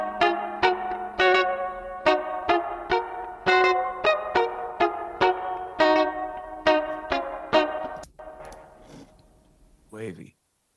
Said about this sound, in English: Trumpet and tenor, it's this.